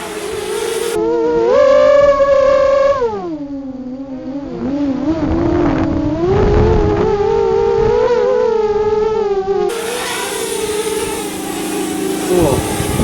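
Eachine Falcon 250 FPV quadcopter motors scream loudly in a throttle punch, whining pitch rising, dipping and climbing again as the craft surges, sustained and close throughout.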